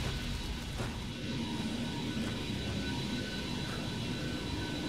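A transport aircraft arrives in the Vanquish video game, a steady, loud engine roar with a broad jet-like rumble that holds constant throughout without any voices.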